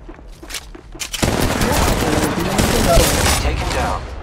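Automatic gunfire in the mobile battle-royale game Apex Legends Mobile: a few scattered shots, then a loud, sustained burst of rapid fire that lasts several seconds, very close and dense.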